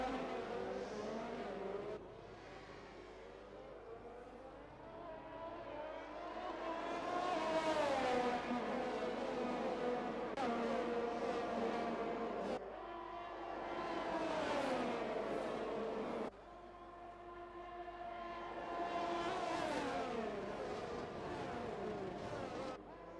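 Race cars from a sim racing league battling at Abu Dhabi, with engines rising and falling in pitch through repeated gear changes and passes, moderately distant and steady over several laps' worth of sound.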